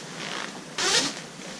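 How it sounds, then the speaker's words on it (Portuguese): Single zipper running around the whole edge of a REV'IT Flare motorcycle jacket being pulled open: one quick, close rasping zip burst midway, with quiet handling noise before and after. "Deixa eu abrir desse lado, que é um zíper único que faz o contorno na jaqueta inteira."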